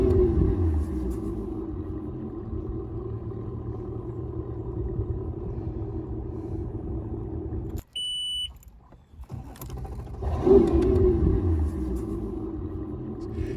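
An outboard boat motor rumbles loudly, cuts out briefly with a beep, then rises in a rev before settling back to a steady drone.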